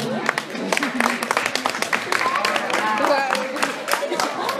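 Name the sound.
audience applause welcoming a dance teacher on the jury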